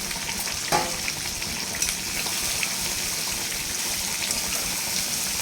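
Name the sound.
giant freshwater prawns frying in a pan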